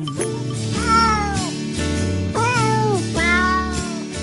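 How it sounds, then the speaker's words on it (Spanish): Cat meows, edited into Christmas carols, rise and fall in a sung melody over a steady instrumental backing, several drawn-out meows in sequence. "No podemos dejar de mencionar a los gatos cantores y sus villancicos navideños."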